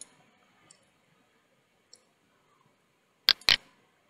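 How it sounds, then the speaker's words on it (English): A computer mouse gives a quick double click, two crisp close clicks near the end, after a few faint ticks in an otherwise quiet room. "We'll double click here on folder poly."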